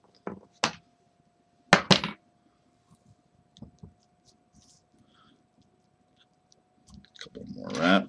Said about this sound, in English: Take your scissors and try to get in there as close as you can.